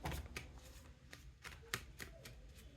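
Tarot cards being shuffled by hand: quiet, close riffles and soft slaps arrive in an irregular series of short bursts with no talk.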